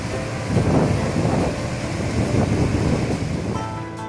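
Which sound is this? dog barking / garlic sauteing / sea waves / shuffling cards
sea waves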